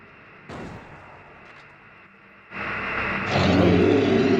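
Gunfire bursts from the video game Silent Hill 2 during a boss battle, a loud dense roar building in two stages and swelling louder toward the end, with no talk over it.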